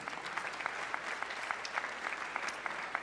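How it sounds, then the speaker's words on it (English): Sparse applause from a modest crowd at a fencing event, fairly quiet and distant, with scattered individual claps standing out over a steady low murmur. "Please give them a round of applause."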